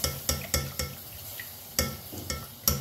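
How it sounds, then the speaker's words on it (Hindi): Milk being whisked quickly into roasted flour in a pan for a lasagna white sauce, giving repeated sharp scraping clinks of the utensil against the pan at an uneven rhythm over a soft bubbling sizzle, with no talking. "अब हम इसमें दूध डालेंगे और दूध डालने के बाद हमने इसे बहुत तेज़ी से हाथ चलाने ताकि इसमें गुठली ना बने"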